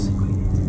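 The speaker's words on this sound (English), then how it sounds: "School bus." A school bus passing on the road, its engine giving a brief, steady low rumble nearby.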